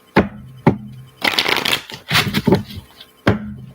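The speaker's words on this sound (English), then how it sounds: "Two more shuffles for Cancer." Tarot cards are shuffled up close: sharp taps, then dense riffling bursts, ending with another crisp tap. No voices.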